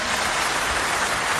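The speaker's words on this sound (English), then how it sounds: "And there was a lot of applause as well." Dense audience applause filling the whole short stretch, a continuous loud patter of many hands clapping with no voices over it.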